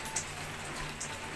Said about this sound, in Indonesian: Saat ini hujannya deras banget, ya.